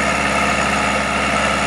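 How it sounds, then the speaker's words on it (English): A 46 hp Kubota tractor drives a 12-inch PTO water pump for flooding a duck impoundment, giving a loud, close, steady mechanical drone with a constant throbbing hum and no breaks. "46 horsepower Kubota tractor. 12 inch Hunga machine pump. Runs off the PTO."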